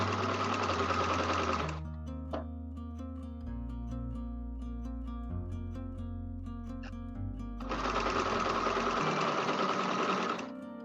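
A sewing machine stitches a homemade fabric mask in two loud close bursts at the start and end, with a quieter hum and faint handling in between.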